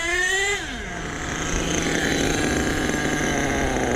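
A truck engine settles into a steady idle after a carburetor adjustment, its revs dropping sharply from a higher pitch to an even low hum, close and moderately loud with no talking.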